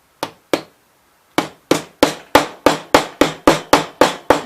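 A hammer strikes a metal staple on a homemade well filter: two sharp blows, a short pause, then a steady run of about ten evenly spaced, loud, ringing hits close by.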